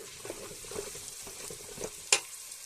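Shrimp stir-fried in a pan: a soft, steady sizzle with light stirring scrapes and one sharp metallic clink near the end, close up and fairly quiet.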